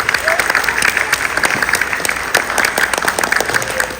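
An audience applauds at a school event to honour children reciting Thirukkural couplets, a steady dense patter of many hands clapping throughout with a faint voice underneath.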